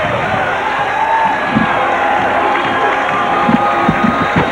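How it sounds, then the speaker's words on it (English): A boxing arena crowd roars and cheers continuously as a boxer makes his way toward the ring, a loud, dense wall of voices with scattered louder shouts and whoops. "Czyz hearing it from the crowd as he makes his way toward the ring"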